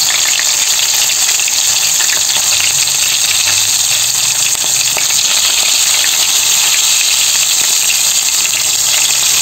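Flour-coated suso, freshwater snails, deep-fry in hot oil with a loud, steady, close sizzle and crackle that runs unbroken throughout.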